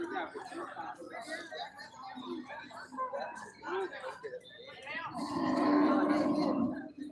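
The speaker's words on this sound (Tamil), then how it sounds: "அருமையான மாடு" Cattle are heard at a live cattle and cart market in Thiruvonam, where a loud low moo rises near the end of the clip over busy talk and chatter in the crowd.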